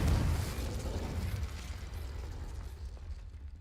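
In Hogwarts Legacy, an Incendio fire spell erupts as a sharp, booming burst that fades into a rumbling, crackling tail.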